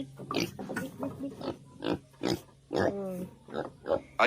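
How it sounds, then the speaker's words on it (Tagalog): Pig on a small farm, a run of close grunts and snorting oinks in short irregular bursts, a couple of louder squealing grunts among them. "Ayan po ang isang baboy natin"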